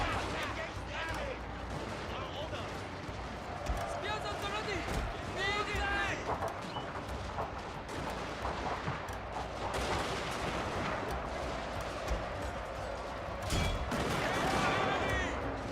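Musket volleys crackle in a Shogun 2: Fall of the Samurai battle, scattered shots and bursts layered over busy battlefield noise while someone talks throughout.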